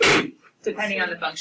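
A single sharp sneeze bursts out in a classroom during a precalculus lesson, loud and close, followed by a moment of quiet and then a voice speaking.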